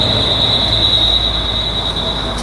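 A motorized drop spider Halloween prop in a haunted tent setup runs with a steady, loud mechanical whir and a high continuous squeal that holds for the whole stretch, no voices present.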